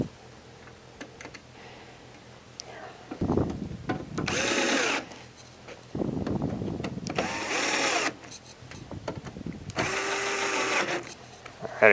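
A power drill drives screws into a Santa Fe Compact humidity control unit, whirring in three separate loud, close bursts of a few seconds each, with quiet gaps between them and no talk.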